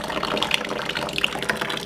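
Water runs steadily from a sink faucet fitted with a filter, a continuous close splashing gush with no talking.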